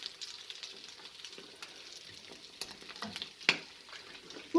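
Food frying in a pan with a faint, steady sizzle and light crackles, a few louder stirring clatters near the end, fairly quiet and close.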